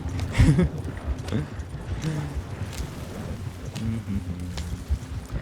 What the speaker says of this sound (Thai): ทำไมม้ามันช้าจัง